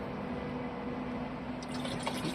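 Water is poured from bottles into the tank of a 2023 Joa Camp 60F camping toilet. It gives a faint, steady trickling fill with a few light splashes toward the end, close by and without speech.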